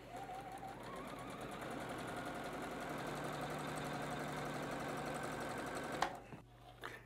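A sewing machine stitches a batik quilt block with a steady, rapid mechanical whir that runs continuously for about six seconds, then stops abruptly, followed by brief handling clicks.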